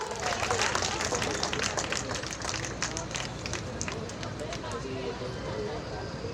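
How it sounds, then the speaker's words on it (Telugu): A crowd claps at a Republic Day celebration to welcome a young performer onstage, a dense, sustained ripple of applause with sharp individual claps standing out and voices murmuring underneath. "ఒకసారి గట్టిగా చెప్పట్లు కొడుతూ వెల్కమ్ చెప్పాల్సిందిగా కోరుచున్నాను"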